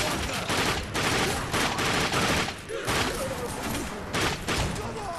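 Heavy gunfire from the video game The Darkness 2, sustained and loud throughout with bursts of automatic fire and repeated shots layered over a dense combat soundscape.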